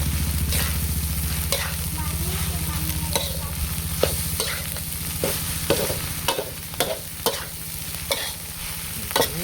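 Field rat meat is stir-fried dry in spicy curry paste, with a constant close sizzle under a low engine-like hum and irregular metal spatula scrapes and knocks against the pan.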